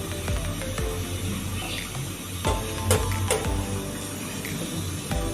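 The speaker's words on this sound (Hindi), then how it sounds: "मैंने अभी पानी डाला है" Water runs steadily into a dum biryani pot in a home kitchen, a continuous close trickling and splashing with a few sharp clinks of utensils and no talk.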